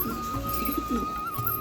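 Small female Madras pigeon cooing, a few soft low throaty coos close by against quiet background noise, with no one speaking.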